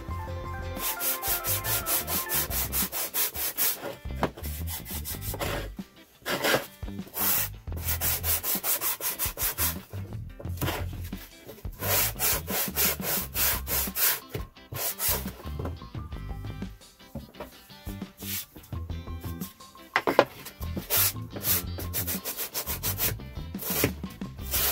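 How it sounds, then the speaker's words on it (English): A wooden trinket box is rubbed down with sandpaper on a sanding block, producing steady, rhythmic scratchy strokes that continue throughout, fairly close and loud, with a tonal background running underneath. "now that it's dry, I'm going to use my sandpaper, so sanding block,"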